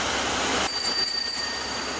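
A bright ringing ice cream truck bell sounds briefly over steady background noise, with no voices.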